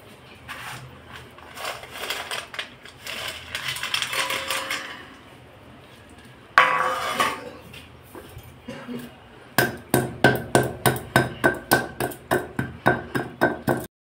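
Whole spices being crushed on a Bengali grinding stone (shil), heard first as scraping pounding, then a steady series of sharp, evenly spaced knocks, close and fairly loud.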